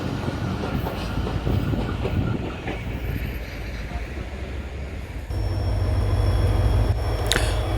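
A train runs steadily along the rails between Sadiqabad and Bahawalpur, a dense continuous rumble with faint clatter, growing slightly louder and deeper partway through, with no voices.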